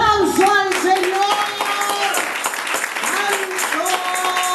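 A church congregation applauds amid worship, clapping running under loud raised voices that call out and sing in bursts across the whole stretch.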